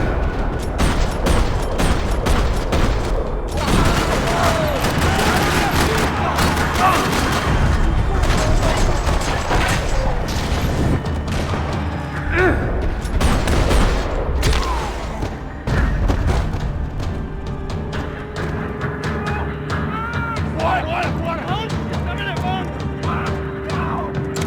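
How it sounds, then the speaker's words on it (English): Dense, sustained gunfire rattles through a parking lot in the video game Max Payne 3, with rapid volleys, booms and thuds layered continuously and loudly, and a voice speaking over the shooting. "Another parking lot rattling with gunfire."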